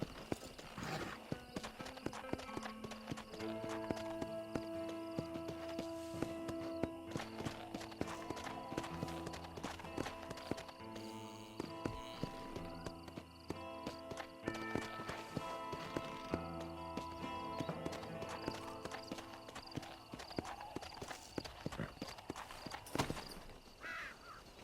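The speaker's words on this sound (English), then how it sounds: "Just walk my horse around on uphill." Horse hooves clip-clopping at a walk uphill in the Red Dead Redemption video game, a steady rhythmic beat under a dense wash of game music and ambience, with occasional crow caws.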